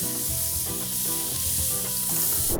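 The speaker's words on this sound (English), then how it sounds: "Tear it in pieces, put it in the pan with a bit of butter." Torn pieces of doner meat fry in a pan with a bit of butter, giving a steady, loud sizzle with crackle throughout and no talk.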